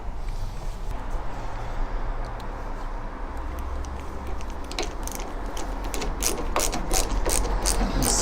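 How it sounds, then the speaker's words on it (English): A screwdriver ratchets screws down into a mortice lock faceplate on a door, with repeated close clicking that grows denser and sharper toward the end over a faint background hum. "so we want to be putting the screws in those bigger holes."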